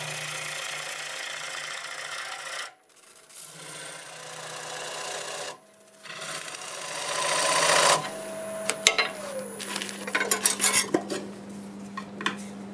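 Wood lathe spinning English walnut in reverse at 900 RPM, a steady humming drone with bursts of broadband scraping from the tool on the wood, then clicks and rattles as cutting gives way to handling.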